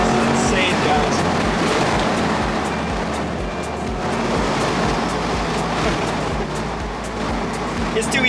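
A Chevrolet C8 Corvette convertible, a 2021 model, drives hard along winding Hawaii mountain roads, its engine a steady loud roar with wind rush throughout and no distinct gaps marking paddle-shift downshifts.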